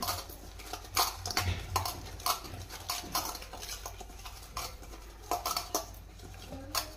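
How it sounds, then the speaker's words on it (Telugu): A spoon mixes a spiced mixture of chili, cumin and coriander powder in a bowl for milmaker snacks, with irregular scraping clinks and taps of metal on the dish close by, and no talk. "ఇప్పుడు వీటన్నిటిని మంచిగా కలిపేసుకుందాం"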